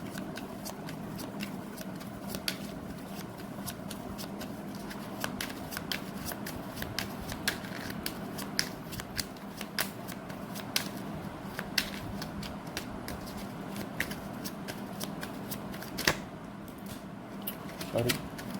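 Tarot cards riffle and slap together in a steady run of close, crisp shuffling clicks, lasting throughout with no voice over them.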